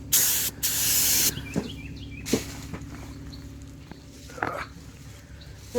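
Water from a hose bursts out in two loud, close hissing sprays, followed by quieter outdoor clatter and a few scattered knocks.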